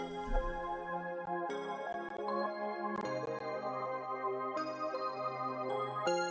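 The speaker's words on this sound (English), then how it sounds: "I also have this iota bell sound that's just a tiny bit different." Two layered synth bell patches from a MIDI beat in Cakewalk by BandLab, a bright iota bell with a few extra notes over another bell sound, ringing in chord-like sustained tones that change every second or so without pause.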